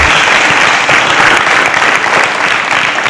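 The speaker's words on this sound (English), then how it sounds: "A round of applause for him." Loud, continuous applause from a studio audience for a quiz-show contestant, a thick steady roar of clapping with no voices over it.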